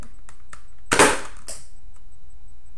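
A toy blaster fires a yellow foam dart at a target: one sharp, loud snap near the middle, with a few faint clicks before it and a softer thud just after.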